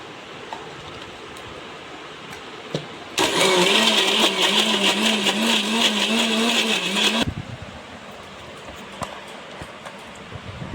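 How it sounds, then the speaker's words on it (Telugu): Small-jar mixer grinder grinding spice powder such as asafoetida, starting abruptly into a loud whirring motor drone that runs about four seconds and cuts off, with quiet room background before and after. "చిన్న మిక్సీ జార్కి వేసుకొని నున్నగా గ్రైండ్ చేసుకొని"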